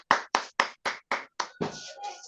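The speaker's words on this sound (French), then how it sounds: "faire un tonnerre d'applaudissements" Clapping after a talk at a community event, heard as six distinct, close, loud claps in an even rhythm, followed by a brief ringing tail and some faint background noise.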